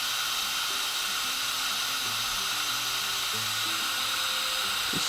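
A heat embossing gun blows hot air in a steady, close, continuous whooshing hiss, with faint tonal hum underneath and a small clatter near the end, no talking.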